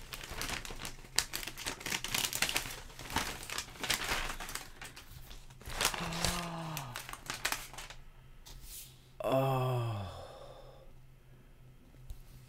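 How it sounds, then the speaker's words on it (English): Plastic packaging crinkles and rustles close by in bursts, with a couple of breathy sighs or sniffs mixed in, followed by quieter handling. "Sorry about the crinkling?"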